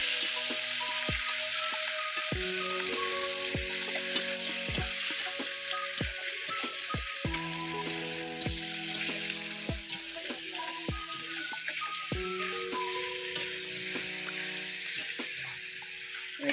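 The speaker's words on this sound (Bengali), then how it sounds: "এবার আমি মাংসটা দিয়ে দিচ্ছি।" Country chicken meat sizzles with spices in a pan, a steady moderate frying hiss with occasional soft stirring knocks, accompanied by background music notes.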